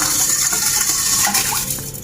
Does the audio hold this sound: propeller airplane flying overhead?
no